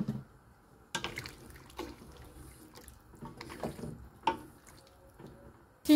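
Heated water splashes and trickles as it is poured into a taro curry cooking in a pot, with intermittent dripping and small splashes, close by and moderately loud.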